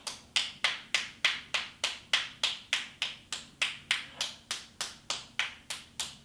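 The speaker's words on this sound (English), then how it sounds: "We're going to do reverse clapping to open up the arms, the shoulder blades," Backs of the hands clap together in a qigong opening exercise, about twenty sharp, evenly spaced slaps in a steady brisk rhythm, close and clear with no talking.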